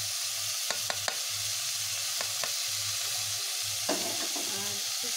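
Tomato and spices hit methi fish in a hot pan for a sour-spicy Bengali curry, setting off a continuous close sizzle and frying hiss, broken by a few sharp clicks and stirring scrapes.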